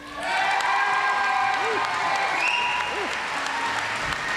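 A graduate's family section at a college convocation breaks into applause and cheers, loud and close, with whoops and a few high whistles rising over the sustained clapping.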